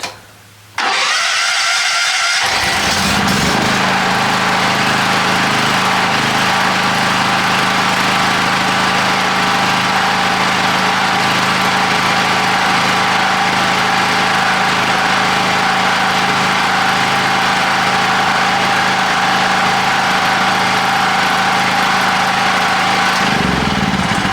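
A small engine fitted with a tachometer cranks and catches, then idles at a steady, loud, even drone for about twenty seconds before cutting off abruptly.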